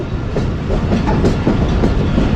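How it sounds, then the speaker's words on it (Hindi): The Pak Business Express passenger train runs along the tracks between Bahawalpur and Karachi, giving a loud, steady rolling rumble with rhythmic clickety-clack of wheels over rail joints, heard from close by. "कॉशन लगा हुआ है जिसे फॉलो करते हुए ट्रेन आगे बढ़ रही है इस वक्त"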